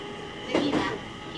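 An E721 series electric train runs on the Tohoku Line between Fukushima and Shiraishi. A steady interior rumble carries a brief louder rolling swell of wheel and rail noise midway, with no voices.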